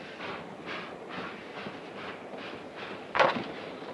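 Passenger train running, a faint rhythmic rumble with regular swells and a brief sharp clank near the end, no voices.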